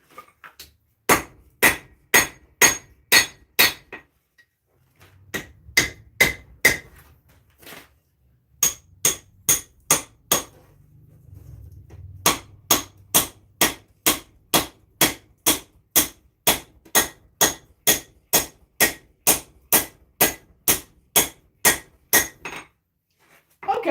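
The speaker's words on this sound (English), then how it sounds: "I'm going to continue forging" Hammer blows forging steel for a small Zangetsu sword replica, sharp ringing strikes in fast, even runs with brief pauses between sets, loud and close.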